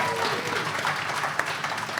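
A live audience at a Pathfinder tabletop game show gives a brief burst of steady applause, moderately loud and continuous throughout.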